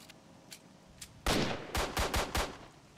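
Gunfire in the video game S.T.A.L.K.E.R.: Shadow of Chernobyl: a few faint distant shots, then one loud blast followed by four quick heavy shots in a row, with no talk.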